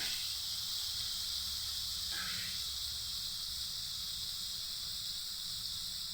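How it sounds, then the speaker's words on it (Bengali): Chopped tomato dropped into hot mustard oil, giving a steady, loud broadband sizzle and hiss that holds constant throughout with no talking. "আমি এটা সরষের তেলে বানাচ্ছি, আপনারা চাইলে সাদা তেলেও বানাতে পারেন। এখন দিয়ে দেব টমেটো কুচি"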